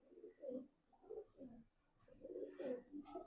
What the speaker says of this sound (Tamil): ஸோ புறாவை பாருங்க எப்படி இருக்குன்னு ஜதே